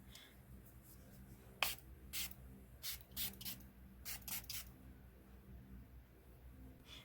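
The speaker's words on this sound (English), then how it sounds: "Milani setting spray. Shake it and spritz my face." Milani setting spray shaken and spritzed onto a face: a run of quick, close, bright pumps and mist bursts, some in fast pairs, over a quiet room background.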